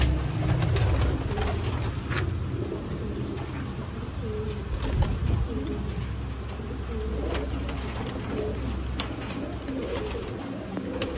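A pair of dab wala pigeons coo softly and repeatedly, low rounded calls rising and falling close by over faint background hiss, with no talking.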